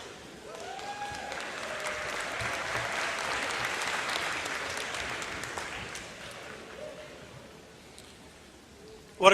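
Sustained applause from a graduation ceremony crowd, building to a full steady clatter of many hands and then tapering off, with faint voices mixed in.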